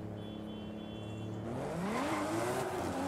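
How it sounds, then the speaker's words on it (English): A Nissan R34 GT-R with a lowered, stiffened rear setup in the racing game Forza Horizon 5 revs its engine, the exhaust note climbing and wavering in pitch as it accelerates, loud and continuous with no talk. "Oh, hear the exhaust."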